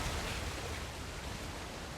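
Steady rushing waterfall from the video game Uncharted: The Lost Legacy, a continuous even wash of falling water with no breaks and no voices.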